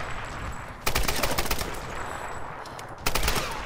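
Rifle gunfire in the Tomb Raider video game: two loud bursts of rapid automatic shots, separated by a quieter stretch of game ambience, with no talk.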